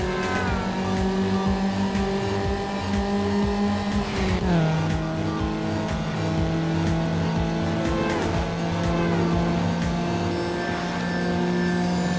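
Racing cars roar in Need for Speed Underground on PS2, chasing an MX-5 through a hard event. Steady, loud engine whine shifts pitch partway through, with tire squeal layered over continuous motor drone and no talk.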